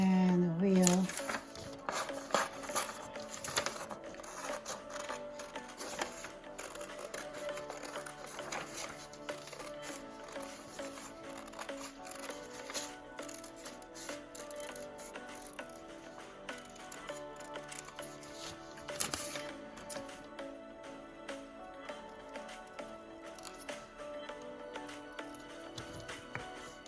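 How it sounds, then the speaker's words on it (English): Scissors cutting printed pictures for transferring onto wood slices, irregular close snips and paper rustles scattered through a long stretch, with a person talking over parts of it. "So I will then cut the pictures"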